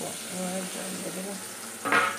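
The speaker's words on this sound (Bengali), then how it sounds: "একটু কষানো কষানো হবে, কষে উঠবে" Masala spices with ground coriander and cumin sautéing in a pan give a soft, steady sizzle under close talking, ending in a brief louder hiss.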